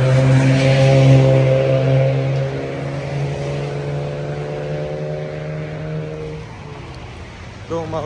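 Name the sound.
road traffic while crossing a street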